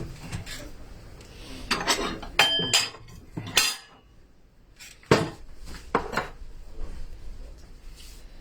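Bowls and dishes are handled while baking: close ceramic clinks, knocks and scraping in irregular bursts, with quieter handling noise in between.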